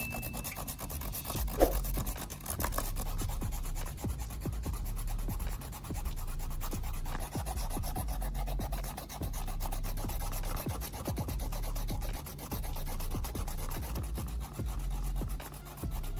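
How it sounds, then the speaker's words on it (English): Steady, continuous rasping as a plastic tube is rubbed back and forth on sandpaper, an even gritty scrape lasting the whole stretch with no talking. "I rub the tube back and forth on the sandpaper until the surface becomes smooth and even"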